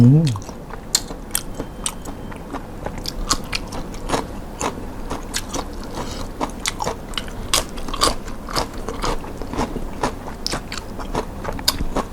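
Close, wet crunching and biting on soy-marinated Korean-style Spanish red prawns of a large size, with repeated sharp chewing clicks throughout and a brief low voice near the start.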